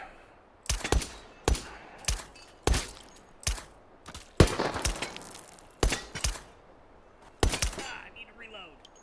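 Suppressed gunfire from SOSIG enemies in the VR shooter H3VR, a string of sharp muffled shots and short bursts spaced irregularly over several seconds, some with clattering hits, fairly close.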